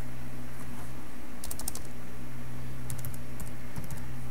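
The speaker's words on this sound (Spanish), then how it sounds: "le voy a dar doble clic al botón" Mouse double-clicking a button in an Excel spreadsheet: short bursts of crisp clicks at three moments, over a low steady electrical hum with no talking.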